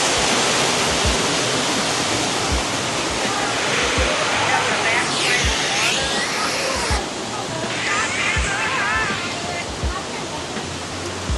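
Water pours steadily behind the Tree of Life at Disney's Animal Kingdom, a continuous broad rushing splash that holds level throughout, with faint voices underneath.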